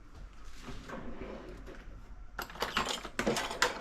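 An experimental homemade pizza being cut: quiet rustling at first, then a run of crisp scraping and clattering strokes against the pan, close and fairly loud.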